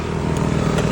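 A motorcycle engine runs steadily nearby, a continuous low rumble with faint clatter, no talking.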